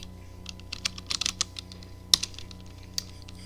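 Computer keyboard keys struck at an irregular pace while commands are entered, crisp clicks over a steady low electrical hum, no voices.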